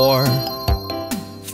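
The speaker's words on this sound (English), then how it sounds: "Four big bells, ding-dong, ding, ding-dong, ding." Big bells in a children's nursery rhyme cartoon chime a ding-dong pattern over bright sung music, with a few sharp strikes spread across a short stretch.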